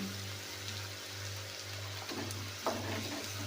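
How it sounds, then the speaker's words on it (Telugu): Ginger garlic paste frying in a pan with turmeric for a tomato cauliflower curry: a quiet, steady sizzle under a constant low hum, with a couple of brief scraping stirs near the end. "ఈ అల్లం వెల్లుల్లి పేస్ట్ని పచ్చి వాసన పోయే వరకు ఈ విధంగా వేపుకుందాం."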